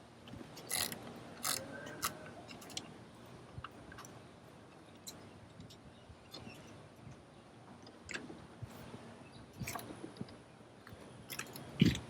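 Screws being removed from a Cobalt Raptor liner: faint, scattered metallic clicks and ratcheting ticks at irregular intervals, with a sharper click near the end, no voice.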